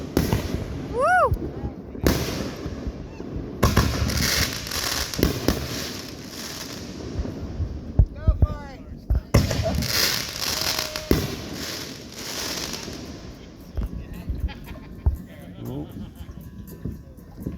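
Fireworks explode outdoors in repeated loud bangs and crackling bursts, with a few whistling rises, while people talk and shout nearby.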